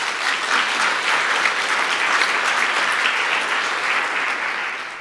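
An audience at a panel debate claps steadily for several seconds, a dense, even wash of hands that holds at moderate loudness and eases slightly toward the end, with no voices.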